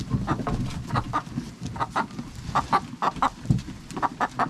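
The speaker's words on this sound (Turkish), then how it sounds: "Tavuk." Chickens clucking in short repeated bursts, close by, with a busy barnyard murmur underneath.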